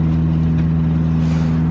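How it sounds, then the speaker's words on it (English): A Honda CRX's loud exhaust drones at a steady low pitch, close and constant, then cuts off abruptly at the end. "I decided that the exhaust was just too loud"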